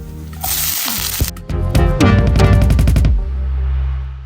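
Mustard seeds spluttering in hot coconut oil during a Kerala lunch preparation, a close, loud, dense run of sharp crackling pops that thins out near the end into a steady low sizzle.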